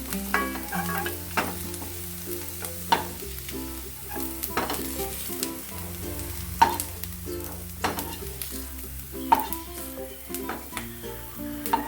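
Pirandai, the adamant creeper, sizzles in sesame oil in a pan while a spoon stirs it with repeated clinks and scrapes, and the frying hiss runs underneath.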